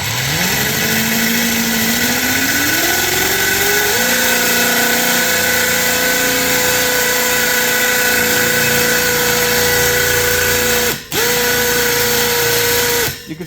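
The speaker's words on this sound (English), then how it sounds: "And this is an 11 millimeter or 7/16 drill bit." An 11 mm drill bit boring through a dirt bike rim, a loud continuous power drill whine that rises in pitch over the first few seconds, then holds steady, with one brief stop before resuming.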